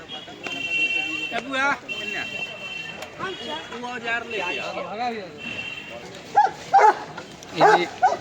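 Several dogs bark and yip in sharp bursts near the end, with people talking and a busy crowd murmuring throughout, at the Sonpur Mela livestock and horse fair.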